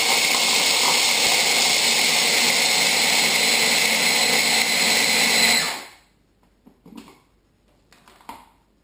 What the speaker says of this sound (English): you want to blend these in a small blender until fine